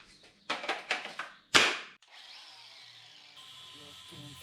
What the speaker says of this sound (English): So get the little flapper onto that and just gently clean that up.